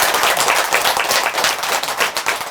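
Audience at a Buddhist temple dharma service bursts into brisk, dense clapping, a close and steady patter of many hands with no speech.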